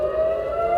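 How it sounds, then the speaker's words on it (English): An air raid siren in Tel Aviv wails in a steady, sustained tone, loud and continuous throughout. "in Tel Aviv, sirens sounded, sending residents into shelters."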